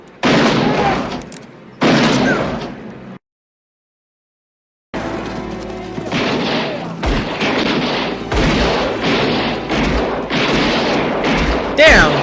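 Gunfire from the 1992 western film Unforgiven: bursts of shots and booms mixed with film score and dialogue, with people talking over much of it and a short silent gap early on.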